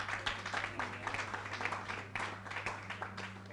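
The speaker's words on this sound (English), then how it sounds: "Please, a round of applause." Audience applause at a neurosurgery symposium, a fairly quiet patter of scattered hand claps under a steady low hum, with some voices.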